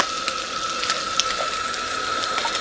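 Spring onions tipped into a hot wok of peanut and sesame oil at a camp cookout, giving a steady close sizzle with a faint ringing tone and a few small clicks and ticks, with no talking.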